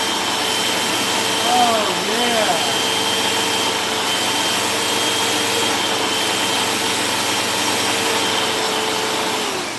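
Repaired Hoover Wind Tunnel vacuum cleaner running with a steady, loud whining roar for nearly ten seconds, while a few short voiced exclamations rise briefly over the motor early on.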